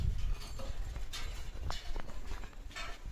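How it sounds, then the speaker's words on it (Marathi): A bullock cart passes by, its hooves clopping in an uneven walking rhythm over a low rolling rumble. The sound is moderately close, with no talking. "बैलगाडीचा आवाज आलाय"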